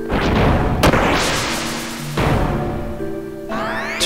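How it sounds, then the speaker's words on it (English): The Dead Cannon attack in the Xenogears video game lands as a string of loud booming blasts and crashes, with a bright shimmering effect tone rising near the end. "Alright, let's take a look at Dead Cannon!"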